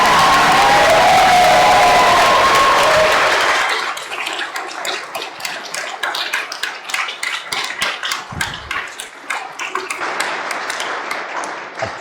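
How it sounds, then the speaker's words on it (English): Wedding guests at a Yarra Valley ceremony applaud the bride's arrival. A loud, full opening gives way to steady crowd clapping with scattered cheers that carries on for several seconds. "what about a big round of applause for that beautiful arrival?"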